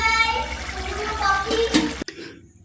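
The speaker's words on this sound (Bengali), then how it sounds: "দিয়ে আবারও একটু জল 1 বাটির মতন দিয়ে একটু 5 থেকে 10 মিনিট ফুটিয়ে নেব" About a bowl of water is poured into a soya chunk curry in a pan, a close, steady splashing pour that stops abruptly after about two seconds, followed by quiet.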